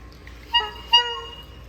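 A toy car horn honks twice in quick succession, two short bright toots close by over a quiet room.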